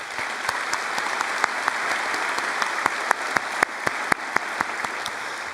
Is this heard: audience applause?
yes